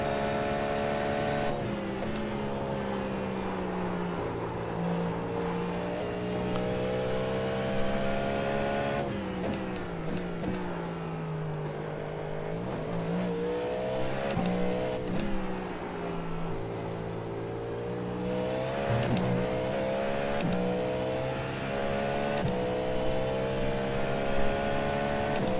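A race car engine drones continuously through a lap in the sim racing game iRacing, its pitch rising and falling steadily with gear changes and corners, loud and close with no talk.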